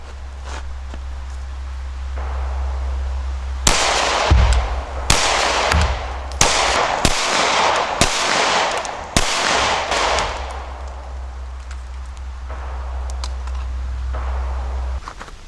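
FMJ handgun rounds fired at a target, a series of loud sharp reports spaced roughly a second apart over a steady low outdoor rumble, with faint handling noise before and after.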